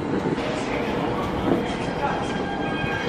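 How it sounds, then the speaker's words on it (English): Steady rumble and rattle of a moving high-speed bullet train in China fills the space, a continuous rolling drone with faint wheel noise and no clear speech. "Pareho lang ng train sa Singapore."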